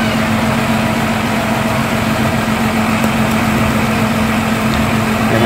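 Steady, loud drone of a large tourist launch boat's engine in the Sundarbans, running continuously with a constant low hum and no talk over it.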